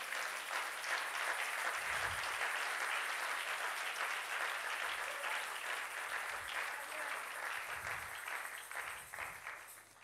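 A church congregation applauds steadily for about ten seconds, dense, even clapping filling the room at moderate volume, with a few low thumps underneath and a slight fade at the end.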